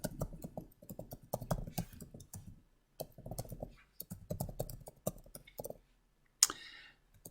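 Rapid clicking keystrokes on a computer keyboard as email addresses are typed in, coming in quick bursts with short pauses, close and fairly quiet, ending with a sharper click.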